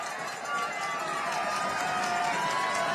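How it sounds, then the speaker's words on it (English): A stadium crowd roars steadily for the home Panthers on a fourth-down play at a Thursday night high school football game between Wilson and Newfane, with the broad wash of noise under a play-by-play voice. "Crowd roaring for the home Panthers on this 4th down"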